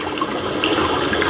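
Shallow, clear tropical water moves and splashes continuously around feet standing in it, a steady close washing and trickling sound with no voices.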